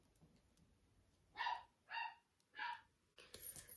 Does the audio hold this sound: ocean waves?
no